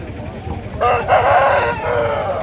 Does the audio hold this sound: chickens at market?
yes